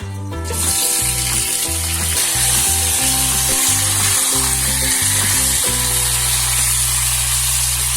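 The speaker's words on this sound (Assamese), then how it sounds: "কোমোৰা আৰু আলুখিনি আগতে ভাজি ল'ম।" Oil sizzles loudly and steadily as pumpkin and potatoes fry in a pan, a constant crackling hiss with occasional stirring.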